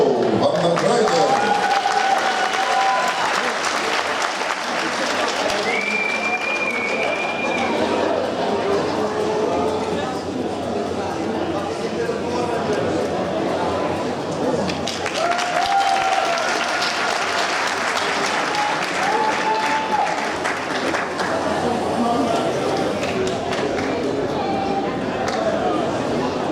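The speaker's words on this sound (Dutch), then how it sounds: "Applaus voor de heren junioren." Audience applause fills a hall after the junior men's bodybuilding prizes at a championship, loud and steady clapping for nearly half a minute, with an announcer's voice over it.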